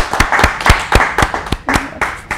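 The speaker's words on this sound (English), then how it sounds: "Give her a round of applause." A small group claps on a student morning show. About ten sharp, distinct hand claps fall at an uneven pace, close and loud, over a couple of seconds.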